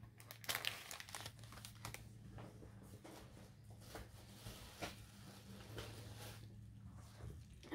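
Bubble wrap crinkles and rustles steadily as it is handled, with soft crackling and tearing textures over a low hum, fairly quiet and close, with no one speaking.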